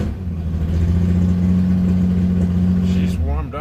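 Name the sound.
1967 Triumph GT6 engine running after cold start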